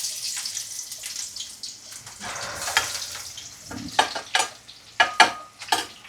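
Onions hit hot oil with green chillies in a rustic village kitchen, sizzling and crackling close by while a utensil stirs and scrapes, with sharp spitting bursts toward the end.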